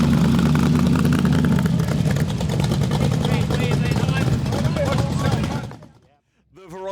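A rat rod powered by a 350 Chevy V8 runs loud and steady for several seconds at a car show coffee cruise, a heavy continuous rumble with voices mixed in, before it briefly cuts away near the end.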